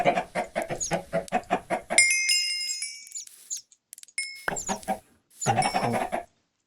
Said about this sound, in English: Now I have a whole lot of chickens.